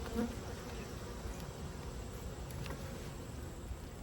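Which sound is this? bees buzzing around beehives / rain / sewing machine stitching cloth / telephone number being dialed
bees buzzing around beehives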